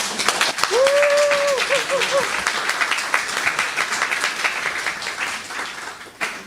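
A church congregation applauds warmly for several seconds, with the clapping slowly fading out. A voice speaks over it.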